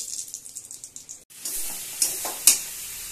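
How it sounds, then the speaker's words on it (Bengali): Eggplant sizzles in a hot pan, a steady crackling hiss with a few sharp pops and stirring scrapes near the end. "এই বেগুন ভাজা হচ্ছে কড়ায়"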